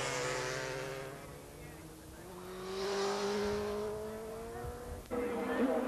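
Superbike racing motorcycles at the North West 200 road race, a Honda among them, drone and rise in pitch as they pass, heard under commentary talk.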